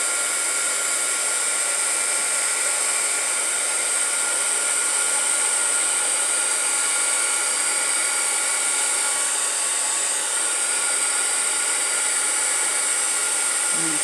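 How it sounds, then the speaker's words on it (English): A heat gun blows hot air in a steady, loud, continuous rush across a tabletop, holding a constant hiss throughout with no talking. "the heat gun to blow it across the table"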